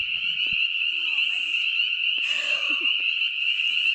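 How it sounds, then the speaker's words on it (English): A loud, steady chorus of frogs croaks and trills continuously nearby, with a few clicks and a brief voice-like sound beneath. "Listen to the frogs tonight."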